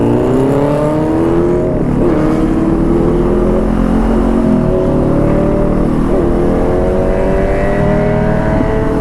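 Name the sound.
1000R superbike revving during test ride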